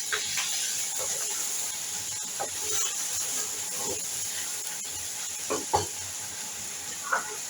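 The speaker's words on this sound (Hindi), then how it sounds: "इसको इस तरह मिक्स करूंगी" Chicken fried rice with soy chili sauce and black sauce being stirred in a hot pan, a steady sizzling hiss with intermittent scraping stir strokes, close and continuous, no talk.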